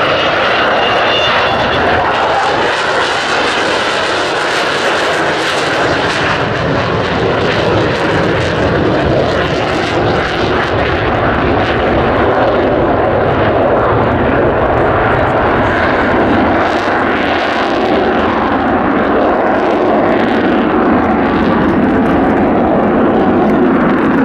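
Avro Vulcan XH558 delta-wing bomber making a flypast at the RAF Cosford air show in 2015, a steady, broad roar of its jet engines sustained loudly throughout with no speech.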